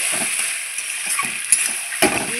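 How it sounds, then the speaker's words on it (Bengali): Mutton pieces frying with spices in a pan for a kosha curry, giving a steady hiss with soft scraping and stirring knocks and a couple of sharp clinks near the end. "মটনটা মশলার সঙ্গে ভালো করে আমি আবারও ভেজে নেব।"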